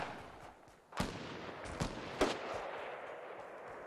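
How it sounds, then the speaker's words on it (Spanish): Video game gunfire in a multiplayer match: three sharp distant shots spaced about a second apart over a low ambient hum, with no talk. "Es que escucho tiros y no sé de dónde, tío."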